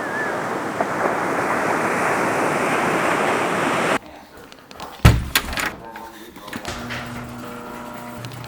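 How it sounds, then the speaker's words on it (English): Ocean waves wash in a steady, loud roar at Crystal Cove beach, California, then give way to a sharp thump like a door slam and scattered clatter. "So we are now here at the beach."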